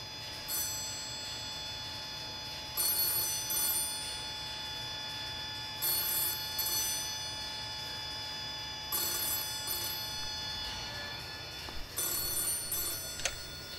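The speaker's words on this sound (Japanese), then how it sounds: "また電話。" Office telephone ringing in repeated bursts of bright bell trills roughly every three seconds, loud and close over a steady background hum.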